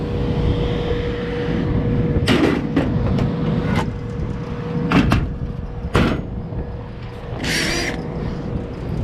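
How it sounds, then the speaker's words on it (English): A few sharp metallic clunks and clicks of an air conditioner access door being fitted back into place, close by over a steady mechanical hum. "better put this door back on"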